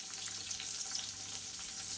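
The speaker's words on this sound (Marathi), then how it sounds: "चारी बाजूनी तेलामध्ये याला छान परतून घ्यायचा." Potatoes fry in oil with a faint, even sizzle over two seconds, unbroken by any voice.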